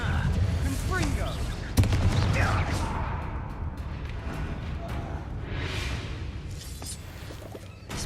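A Confringo blasting curse cast in Hogwarts Legacy lands as a sharp blast about two seconds in, followed by crackling, rumbling debris over a steady game backdrop with voices murmuring underneath.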